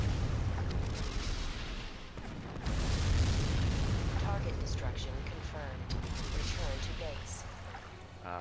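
Heavy Lanier cannon shots in the mech combat game Armored Core 3, deep booming blasts rolling through dense battle noise across the whole stretch, with a voice talking over parts of it.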